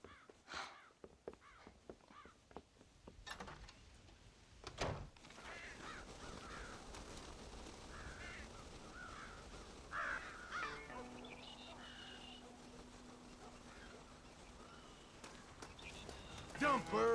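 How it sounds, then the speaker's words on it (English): Crows caw repeatedly in Red Dead Redemption on PS5, a few loud calls at the start, then quieter scattered cawing over a steady outdoor ambience with hoof clops and a brief voice. "God damn crows!"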